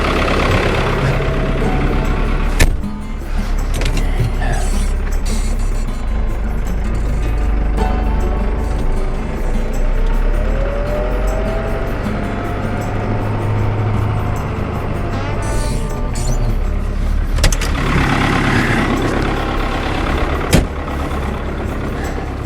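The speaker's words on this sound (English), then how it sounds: "Climb back in the tractor and pull up and do it again." A tractor engine runs steadily while feeding a herd of cows, a loud continuous rumble with a couple of brief knocks and shifts in tone, no talking over it.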